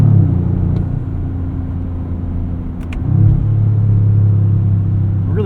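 A 2025 Toyota GR Corolla with an 8-speed automatic drones along at close range, its low engine rumble briefly swelling as a quick downshift blips the revs, then settling back to a steady hum.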